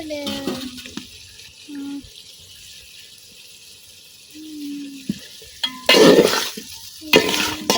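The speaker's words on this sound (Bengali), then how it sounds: "আলুর সাথে মশলাটা খুব ভালোভাবে মিশিয়ে নিলাম" Boiled potatoes are stirred into a fried spice paste in a pan, giving a steady soft sizzle with scraping and stirring, then louder, busier bursts of mixing near the end.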